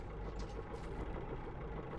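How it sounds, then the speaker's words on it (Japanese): A noisy boat engine in the video game Metro Exodus drones at a low, steady idle, fairly faint and continuous, with a slight rumbling texture and no speech over it. "このやかましい音はボートのエンジン音だ。"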